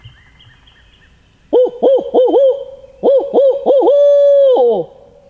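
A turkey hunter's owl hoot call rings out in two bursts of rhythmic hooting, the second ending in a long drawn-out hoot, loud and close on a cold morning in Mississippi woods. A voice imitates an owl.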